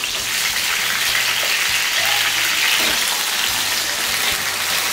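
Eggplant pieces fry in about three large spoons of oil in a kadai, giving a steady, close, even sizzling hiss with no talk over it.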